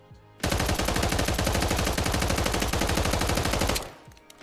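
Rapid single-fire shots from an MTZ-762 rifle in Warzone 3, a dense, loud, evenly spaced string of gunfire lasting about three and a half seconds, then stopping abruptly, with no voices.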